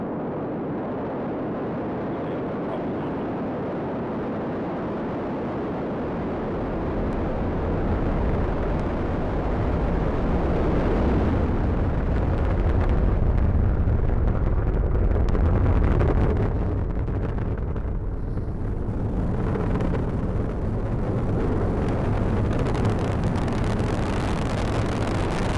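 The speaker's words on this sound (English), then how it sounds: "liftoff as Falcon 9 and Cargo Dragon take flight, bound for the International Space Station" SpaceX Falcon 9 rocket carrying a Cargo Dragon lifts off on the CRS-16 resupply mission to the International Space Station, producing a deep continuous roar that swells louder after several seconds and rumbles steadily on.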